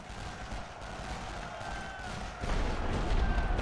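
Artillery fire in The Great War: Western Front, a World War I strategy game, rumbles as a steady low barrage that swells louder past the midpoint, with no talk over it.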